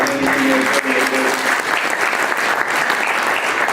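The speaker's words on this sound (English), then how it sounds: "I want to give yourselves a round of applause for just kind of hanging in there." A loud, dense round of applause from an audience at a real estate industry summit, steady and close throughout with no break, and a few raised voices mixed into the clapping.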